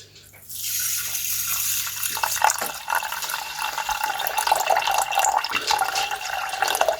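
Tap water runs into a pot for cooking rice, a steady, close rushing stream that starts after a brief quiet moment and continues unbroken.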